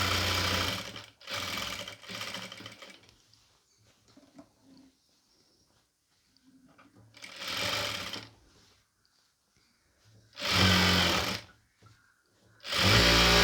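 A sewing machine stitches a pleated nightie in about five whirring bursts of a second or so each, separated by quiet pauses, close and fairly loud.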